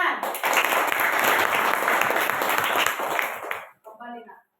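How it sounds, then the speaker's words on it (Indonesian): A short burst of group clapping, loud and dense, fading out near the end as a few voices begin to talk. "Ayo tepuk tangan."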